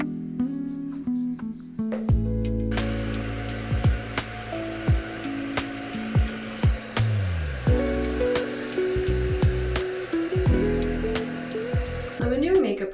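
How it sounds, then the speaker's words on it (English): A hair dryer blows steady, whooshing air while drying hair, running continuously beneath upbeat background music with light rhythmic clicks. "I just finished drying my hair"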